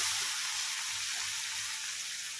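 Flattened rice drops into a pan of hot oil tempering for atukula upma, giving a steady, moderately quiet hiss and sizzle with no speech.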